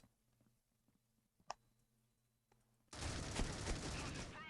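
Loud sustained burst of gunfire from the Critical Ops video game bursts in at about three seconds and runs to the end, after a quiet stretch of faint clicks and a single sharp tap.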